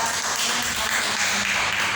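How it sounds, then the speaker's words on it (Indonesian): A class of students applauds a group during a mathematics lesson on cubes and cuboids. The clapping is dense, loud and even throughout, a continuous rattle of many hands. "tepuk tangan untuk kelompok 1"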